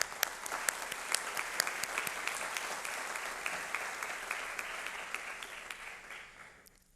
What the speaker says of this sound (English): and a big applause for her.